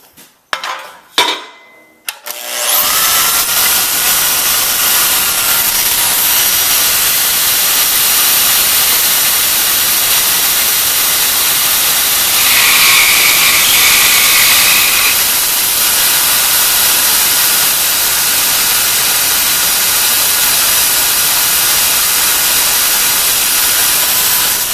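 A bandsaw cuts through 2-inch square steel tube with 1/8-inch walls, producing a loud, steady, close hissing whine that runs without a break after a few short knocks at the start.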